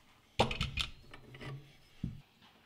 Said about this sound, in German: Dann schrauben wir zunächst den alten Mündungsfeuerdämpfer oder in meinem Fall Kompensator ab